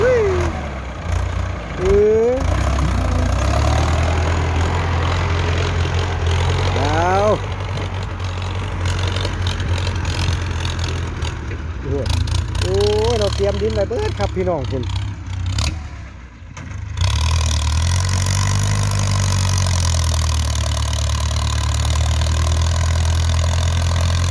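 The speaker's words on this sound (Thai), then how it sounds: "สียงเครื่องรถไถฟอร์ดเข้ามานี่ก็ เดินเรียบครับผม" A Ford tractor engine runs steadily and smoothly at close range with a low, even rumble, briefly dipping and revving, while someone talks over it.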